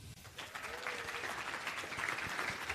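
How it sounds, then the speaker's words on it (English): An audience at a WordCamp conference gives warm applause as a speaker is welcomed on stage, a steady wash of many hands clapping, somewhat distant and faint. "Please welcome on stage, with a very warm applause"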